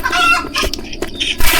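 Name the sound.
chicken clucking in the Roblox game Consume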